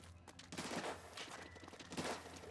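A Recycled Brella fires in Splatoon 3, with a few bursts of sharp, rattling shots over a low game hum, moderately loud and spaced out across the two and a half seconds.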